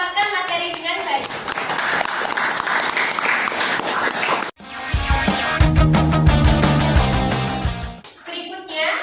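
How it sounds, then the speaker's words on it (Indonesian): A class audience of junior high students applauds presenters after a classroom discussion, with loud, sustained group clapping that swells and continues across the whole stretch, briefly dipping midway before resuming. "Mari berikan tepuk tangan untuk penyaji yang telah memaparkan materi dengan baik."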